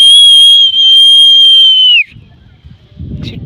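A loud, steady high whistle at Chitradurga fort holds one long unbroken tone for about two seconds, then bends downward and cuts off, leaving faint crowd murmur and distant voices behind.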